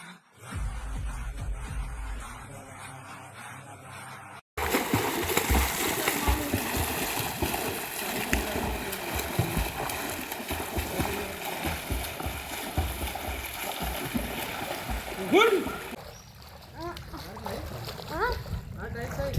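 Splashing and churning water as people swim in a deep village pond or well around three feet down, a steady wash of splashes close by with voices talking and calling over it throughout.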